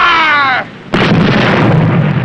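A submarine deck gun fires a single loud, sharp blast after a brief tone and pause, followed by a long rumbling, noisy roar of the shot echoing across open water.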